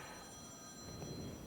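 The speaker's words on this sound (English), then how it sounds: "That's my phone, people, so it's okay." A mobile phone rings faintly and steadily with a thin, sustained electronic tone, heard in a quiet room during a lecture on financial security with no one speaking over it.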